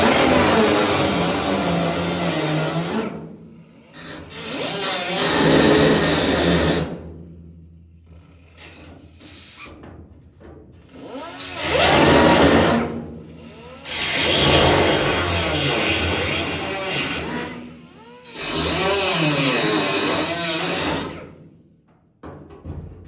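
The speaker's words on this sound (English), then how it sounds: "we got to cut into this brace here, get a little starting point" A power tool cuts into a floor brace of a 1941 Ford Super Deluxe, grinding in about four loud, close bursts with short quiet gaps between them.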